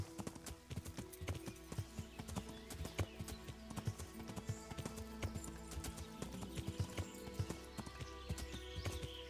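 Steady clip-clop of horse hooves with occasional snorts and a whinny, mid-distance, over a low ambient hum in the video game Kingdom Come: Deliverance; no talking.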